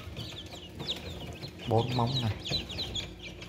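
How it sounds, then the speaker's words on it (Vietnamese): Ky Lan breed chickens in Vung Tau cluck and chirp repeatedly nearby, with someone speaking over them partway through. "Gà Kỳ Lân chuẩn này"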